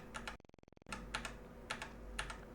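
Computer keyboard keys tapped while working in Adobe Illustrator, pressing Ctrl+V to paste: crisp, close keystroke clicks with a fast rattling burst of rapid taps in the middle, then a few more scattered individual presses.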